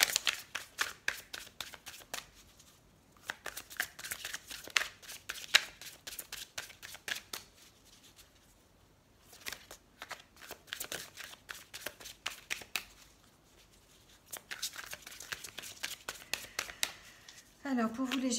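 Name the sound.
shuffling oracle cards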